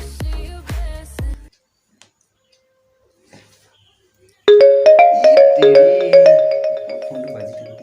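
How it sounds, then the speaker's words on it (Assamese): A mobile phone ringtone plays loudly as a bright, repeating melodic tune after a few sharp plucked notes and a near-silent gap. "ফোনটো বাজি থাকে"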